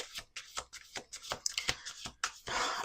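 Oracle cards being shuffled by hand in a quick run of crisp riffling bursts, each a short papery flutter, close and fairly quiet with no talking.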